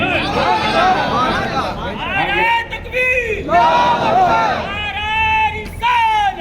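A crowd at an Islamic religious gathering chanting slogans in loud, rhythmic unison, rising and falling in repeated bursts with brief pauses between them, close and full.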